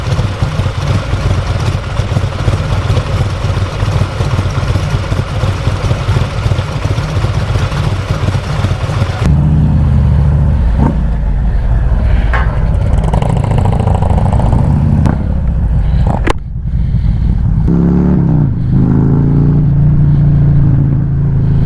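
A Harley-Davidson Street Glide performance bagger motorcycle runs loud and close, a steady heavy engine drone for about nine seconds, then changing revs and throttle blips as the bike pulls away and rumbles on.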